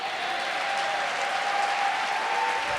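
Applause at a plenary session of a community empowerment summit as the staff of a county supervisorial district are honored, a steady crowd clapping at moderate volume with a faint constant tone underneath, no speech.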